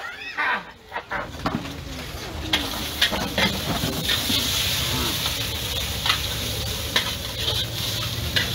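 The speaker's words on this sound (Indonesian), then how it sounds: "Ini goreng campur-campur." Mixed noodles stir-fried in a wok at a busy night street stall selling green noodles, loud continuous sizzling with repeated scraping and clanking of the spatula stirring, close up, with voices in the background.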